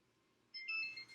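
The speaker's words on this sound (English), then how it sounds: "our buzzer's going off" A kitchen timer's electronic buzzer goes off, a steady high-pitched beeping tone, faint and alone for about a second.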